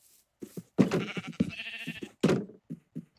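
Several sheep bleats from the video game Minecraft, loud and close, coming in quick irregular bursts with brief gaps between them and no talk over them.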